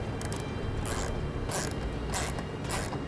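A 1/2 inch socket turns a nut down snug over flat and rubber washers while fitting Air Lift LoadLifter 5000 air helper springs, giving four evenly spaced bursts of close ratcheting clicks over a low steady background.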